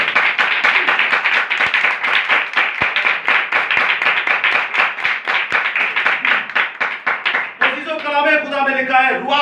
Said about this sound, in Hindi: खुदा के कलाम के लिए एक बार जोरदार तालियां।